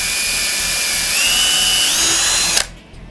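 A power drill pre-drills holes in a DIY subwoofer box, a steady loud whine that rises slightly in pitch midway, then cuts off abruptly near the end.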